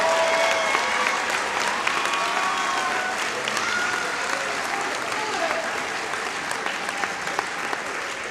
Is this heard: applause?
yes